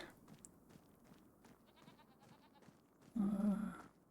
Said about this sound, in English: Go and check on our sheep.